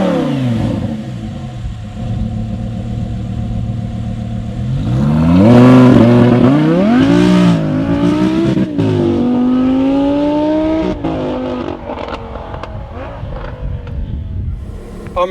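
Supercharged 800 bhp Audi R8 GT V10 engine revving and accelerating hard from inside the cabin, a loud, close roar that climbs in pitch through several gear pulls and then settles.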